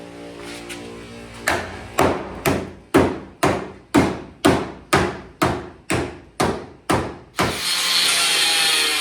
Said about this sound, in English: I wonder if I can hit that with a hammer